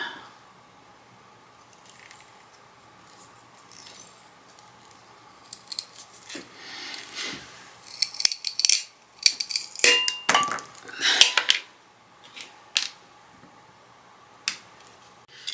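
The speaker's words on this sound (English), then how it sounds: "use my miter shears and cut those down" Miter shears cut small wooden blocks with a run of sharp, close snips and clicks, sparse at first and then clustering in the middle before a few final isolated cuts.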